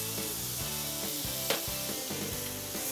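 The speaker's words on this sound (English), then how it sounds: "I wanna put my spices in because they'll get a little bit toasted with this dry heat and sizzle" Cumin, smoked paprika and chili powder toasting in a hot dry pan give a steady, hissing sizzle, heard beneath bright background music throughout.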